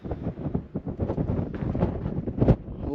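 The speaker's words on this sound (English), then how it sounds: "Cold and windy." Cold wind blows hard across the microphone in an old Wild West ghost town, a loud gusty rumble with irregular buffeting bursts and no talk.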